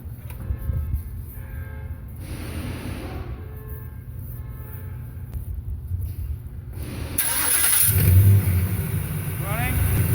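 A 2020 Ford Mustang with its 5.0 engine, just refilled with about 10 quarts of oil, starts up and idles steadily with a deep low rumble, growing louder near the end; a voice speaks briefly over it.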